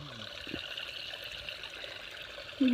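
Irrigation water flows steadily into a village maize field, a continuous close trickling wash with no pauses, ending in a short louder burst.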